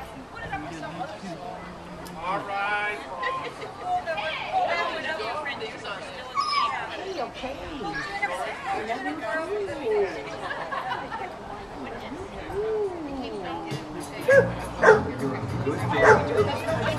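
A dog yips and barks repeatedly at a lively spring festival, its sharp calls mixed in with steady chatter and crowd babble close by.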